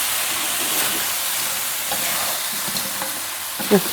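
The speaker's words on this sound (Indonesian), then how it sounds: "tinggal kita goreng deh" Food frying in a pan with chili powder seasoning, a steady loud sizzle and hiss throughout, with occasional light stirring scrapes and a sharper pop near the end.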